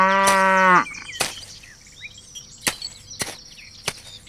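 A cow lets out a single drawn-out moo at the start, then sharp knocks and thuds sound sporadically in a quiet farmyard setting.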